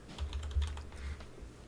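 Quick, uneven keyboard typing, a short burst of clicking keys up close with no talking.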